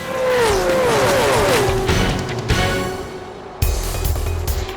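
NASCAR stock cars race at Talladega Superspeedway in the 1984 Winston 500, a loud sustained engine roar with pitch sweeping down as cars pass, then abrupt cuts to more roaring packs.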